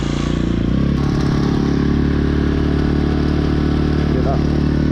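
A Kawasaki KX450F dirt bike engine idles with a loud, steady, close rumble and a constant mechanical clatter through the whole stretch, no clear revving.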